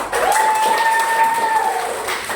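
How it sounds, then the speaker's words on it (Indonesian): A classroom group claps at the end of a lesson, a continuous dense patter of many hands, with a thin steady electronic tone running through much of it. "Tepuk tangan untuk hari ini."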